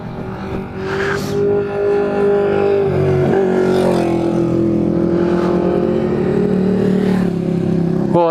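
Motorcycles passing close to a roadside camera, a steady loud engine drone that rises and falls in pitch as the bikes approach and go by, with no talk.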